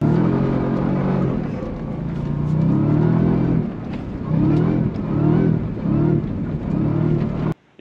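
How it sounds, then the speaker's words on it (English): Supercharged V8 of a 2024 Ford F-150 Raptor R revving hard in a series of loud, close bursts, rising and falling several times before cutting off abruptly, with no talk over it. "The V8 supercharged engine."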